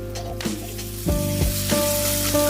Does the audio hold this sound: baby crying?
no